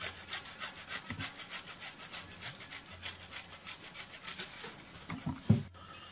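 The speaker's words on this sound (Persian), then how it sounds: "کیوی رو تراش میکنیم" A peeled kiwi is scraped over a hand grater for a face mask, giving steady rapid rasping strokes throughout, close and fairly loud, with a few soft knocks near the end and no talking.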